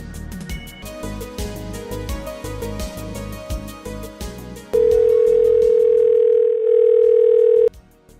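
A telephone dial tone rings out loud and steady for about three seconds as someone places a call, following a stretch of busy background music with mixed sounds.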